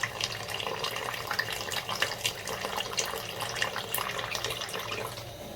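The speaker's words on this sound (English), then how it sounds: "Add some little water." Steady running water splashes and trickles into a bowl of flour, a continuous close liquid patter with small drips, no voices.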